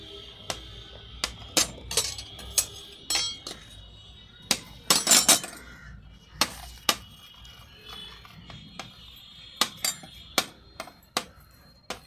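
A metal spoon clinks repeatedly against a glass while yogurt is stirred into wood apple sherbet, giving sharp, irregular taps and brief scraping rubs, fairly close and moderately loud, with no talking.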